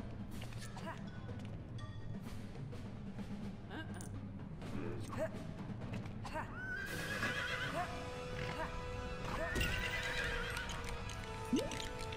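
A horse in the Lego Harry Potter game neighs and its hooves clip-clop over a steady game background, with a person talking faintly now and then.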